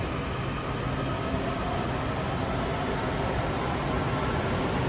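Green Line metro train headed for Greenbelt running at night: a steady, loud broadband rumble and hiss of wheels and motors, unchanging and continuous for the full five seconds, with no voices.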